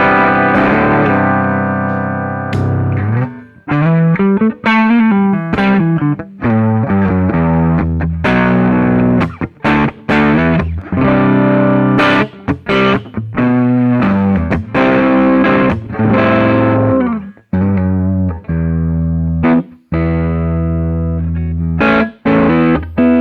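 Electric guitar driven through a Lollygagger FX Canaglia distortion pedal, gain untouched, plays a busy run of picked notes and chords, thick and saturated with a slight wash of echo, loud and continuous with no voices.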